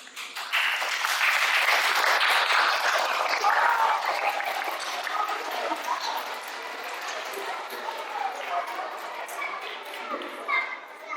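An audience at an Islamic school drama class play claps loudly and steadily for several seconds, the applause fading slightly toward the end.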